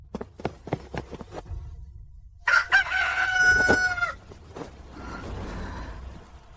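A rooster gives one loud, drawn-out crow in a historical drama scene about a rooster wedding ceremony. A few sharp clicks come before it, and a soft rustling follows.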